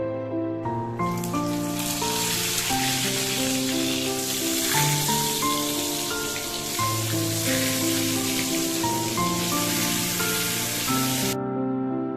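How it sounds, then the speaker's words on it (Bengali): Eggplant slices frying in hot oil give a continuous, dense sizzle and crackle that stays loud and even throughout, with steady music underneath and no talking. "এবার আপনি বেগুনগুলোকে একটু ভালো করে লাল লাল করে ভেজে তুলে রেখে দিন"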